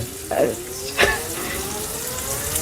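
Fish from the creek fries in a pan, a continuous soft sizzle with a couple of sharper clatters near the start and a faint voice in the background.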